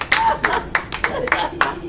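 A small group of people clap at close range with several sharp rhythmic bursts at a chef's table aboard a Carnival cruise ship, brief and lively.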